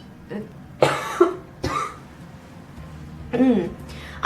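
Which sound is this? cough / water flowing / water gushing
cough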